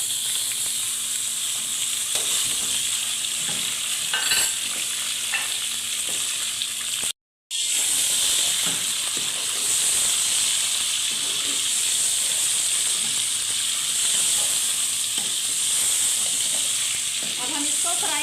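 Goat meat fries in a pot with black and green cardamom, cinnamon and cloves for aloo gosht, making a loud, continuous close sizzle with faint stirring. The sound cuts out briefly partway through.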